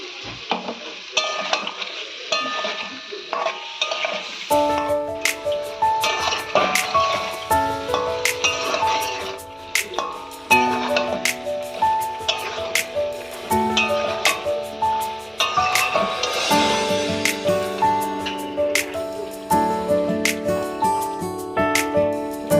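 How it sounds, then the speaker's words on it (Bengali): Small new winter potatoes are stirred with spices and a splash of water in a pan for alu dum. A spoon scrapes and clatters repeatedly against the pan over a soft, steady sizzle, with no talking. "এবার আলুটাকে ভালো করে কষিয়ে নিতে হবে।"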